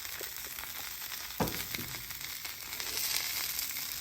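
Italian sausage frying on a griddle in a little avocado oil, a steady close sizzle and crackle with a brief louder spatter partway through.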